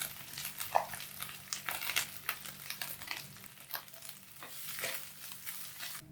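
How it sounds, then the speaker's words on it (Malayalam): Grated coconut with dried chillies and curry leaves frying in oil until light brown, a crackling sizzle broken by repeated scraping stirs of a spoon across the pan, close and fairly busy. "നാളികേരം ഒരു ഇളം ബ്രൗൺ നിറം ആവണ വരെ നമുക്കൊന്ന് വറുക്കാം."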